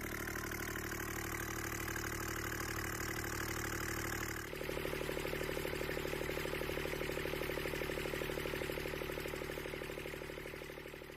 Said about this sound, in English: hear this little engine purring like a kitten